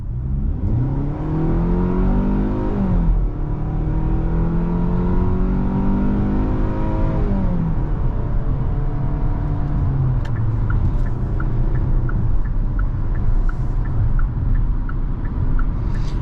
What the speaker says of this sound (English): Let's go ahead and do another acceleration right here.